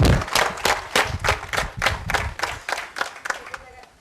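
Rhythmic clapping from an audience, a run of about a dozen loud, evenly spaced claps in unison that gradually slow and fade, with a voice faintly mixed in beneath.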